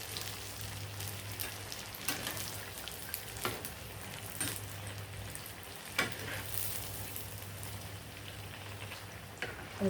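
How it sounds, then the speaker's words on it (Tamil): Green gram kuih frying in hot oil gives a steady soft sizzle and bubbling, close and quiet, with occasional small pops and faint clinks from the pan and no talking. "அது பொன்னிறமாக பொரிஞ்சிடணும்."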